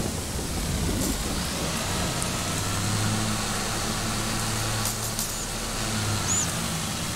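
A modded Indian Arjun 555 tractor in Farming Simulator 22 idles with a steady low engine rumble, continuous and moderately loud, alongside a faint background hiss and no talk.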